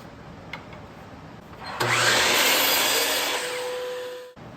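A power saw cuts a wooden slat for a DIY mini planter. A short, loud whining cut rises after a quiet start and fades as the blade winds down.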